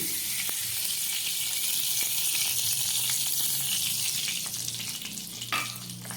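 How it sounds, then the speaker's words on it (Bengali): Cashews and raisins frying in hot ghee in a kadai, a steady close sizzle and crackle running throughout with faint stirring clinks, no voices. "এই ঘিয়ের মধ্যে আমি কাজুগুলোকে ভেজে নিচ্ছি, কাজু আর কিশমিশটাকে।"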